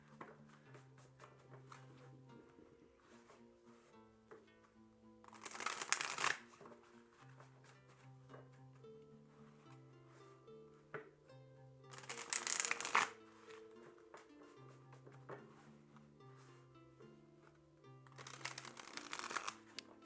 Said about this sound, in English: We'll give it a good shuffle first though.